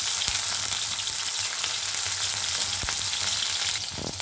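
Tomato, crushed ginger and green chili sizzle steadily in hot oil with cumin seeds, a dense continuous frying hiss with a few sharp pops and a brief stir near the end.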